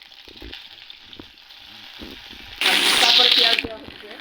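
Ginger garlic paste hits a hot wok and fries, then sizzles loudly in a burst as it is stirred, with quieter pan sounds and soft scraping before it.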